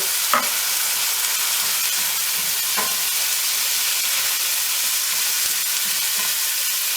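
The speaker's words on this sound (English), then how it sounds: "Pop that in and we'll get a sizzle" A loud, steady sizzle of curry spices frying in a hot pan, with a few faint stirring clinks, continuous and close.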